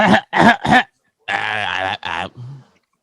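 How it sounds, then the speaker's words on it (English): Someone clears their throat loudly and close up: three harsh, quick bursts, then a longer gravelly rasp that trails off. "Let me clear my throat."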